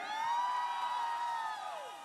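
Concert audience cheering for the girls' group at a Cantonese pop song battle show: a faint, sustained, high-pitched collective scream holds steady, then slides downward and fades near the end.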